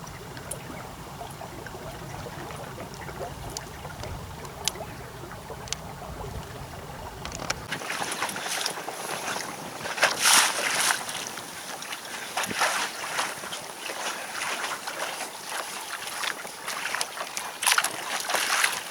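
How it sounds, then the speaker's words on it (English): A sailboat running downwind along a river, with steady water wash and wind noise, a low rumble that drops away partway through, and scattered light splashes against the hull. "Just sailing downwind to the first turn of the river."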